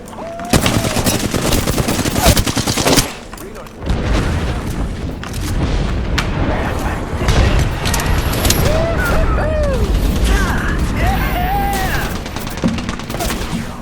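Gunfire and airstrike explosions in the battle royale game Apex Legends: loud bursts of rapid shots and heavy booms, broken by a brief lull, with game voice lines over the action.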